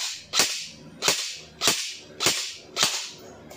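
An EC 312 CQB rifle fires in semi-auto during a test, giving five sharp, evenly spaced cracks about half a second apart, close and clear with no talking.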